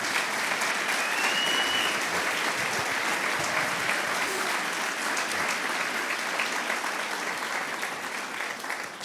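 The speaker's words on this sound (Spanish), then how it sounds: "De un aplauso al Señor." A church congregation applauds during an Easter service, broad continuous clapping with faint crowd murmur that holds steady and eases slightly toward the end.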